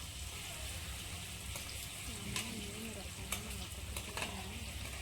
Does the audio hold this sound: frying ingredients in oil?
yes